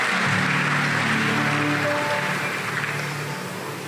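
A congregation at a 2021 Christmas service in Bali claps steadily and loudly for about four seconds, with faint sustained tones running underneath before the clapping slowly thins.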